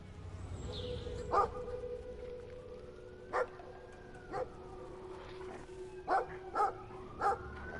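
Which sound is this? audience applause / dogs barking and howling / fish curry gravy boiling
dogs barking and howling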